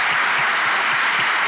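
Studio audience applause opening a Turkish television relationship quiz show, a dense, steady wash of clapping filling the whole moment with no voices over it.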